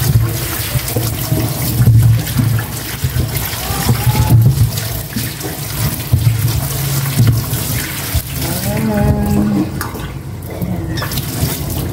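Running tap water splashes steadily into a sink as food is washed by hand, loud and close, with shifting gurgles and brief pauses in the flow.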